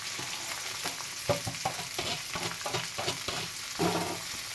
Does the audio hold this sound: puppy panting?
no